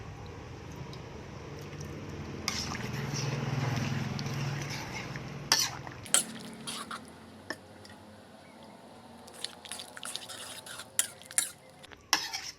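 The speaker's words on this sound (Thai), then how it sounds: "เปิดไฟอ่อนๆใส่แป้งมันลงไปเลยค่ะ แล้วก็ช่วยคคน คนอย่าหยุดนะคะ" A utensil stirs a thickening tapioca starch mixture in a pan over low heat, making a continuous soft scraping swirl for several seconds. Sharper clinks of metal against the pan follow, close and intermittent.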